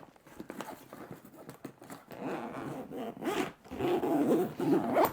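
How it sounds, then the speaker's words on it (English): A standard zipper on an Evergoods x Carryology Griffin backpack is pulled in repeated raspy runs, close and fairly quiet, growing longer and louder toward the end with no talking over it. "It's a standard zipper, but it just feels great."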